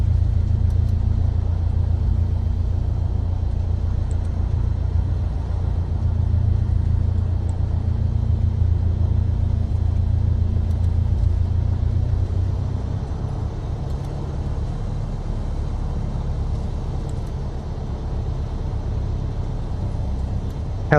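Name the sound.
aircraft engine running after start-up, from the video game Microsoft Flight Simulator 2024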